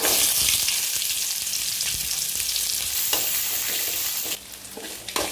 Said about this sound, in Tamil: அறுத்து வச்சு சின்ன வெங்காயத்தை போட்டுக்கலாம்